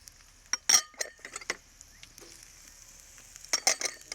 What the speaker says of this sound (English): okay, stir these ingredients together